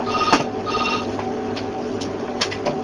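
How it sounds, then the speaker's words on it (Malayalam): A telephone rings with a repeated electronic tone in short bursts, fairly loud and steady against a faint background hum, with no talking. "ആ ഫോൺ ഒന്ന് അറ്റൻഡ് ചെയ്യട്ടെ ജസ്റ്റ്."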